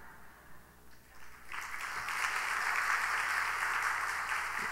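Applause from a church congregation at an evening worship service, starting soft and patchy, then swelling after the first second and a half into full, sustained clapping that stays loud to the end.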